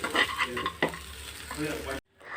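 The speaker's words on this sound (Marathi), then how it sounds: "कोथमीर घालून मिक्स करून हे कांदा पोहा सर्व करपाक जाय" Kanda poha being mixed with fresh coriander in a pan: busy, close scraping and stirring over a soft sizzle, broken by a brief drop to near silence before the stirring resumes.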